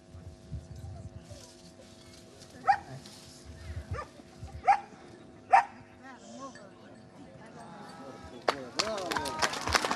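A search dog hunting for a hidden pistol at a dog show event barks in three sharp yips between soft whines and panting, with people talking nearby and a burst of excited whimpering at the end.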